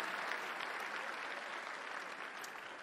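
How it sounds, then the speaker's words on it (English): Audience applause for Menno Vandenberg at the Samsung Galaxy Note 3 presentation at IFA 2013 in Berlin, a dense, steady wash of many hands clapping, fairly distant and even throughout with no voices over it. "Ladies and gentlemen, a round of applause for Mr. Menno Vandenberg."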